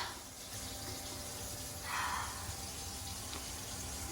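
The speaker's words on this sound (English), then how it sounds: "All right, water's on, water's rolling." Tap water runs steadily into a sink with a soft, constant rush, briefly growing louder for a moment midway.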